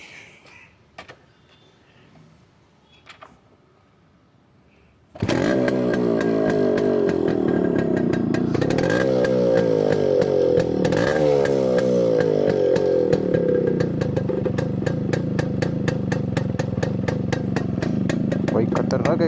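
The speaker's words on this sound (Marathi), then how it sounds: "बाईक खतरनाक एक्झॉस्ट आहे, 2 स्ट्रोक इंजिनचं." After a few quiet seconds of faint background noise, a Yamaha RX135 two-stroke motorcycle fires up and its exhaust crackles loudly and close, revved in several sharp bursts over a steady raspy idle.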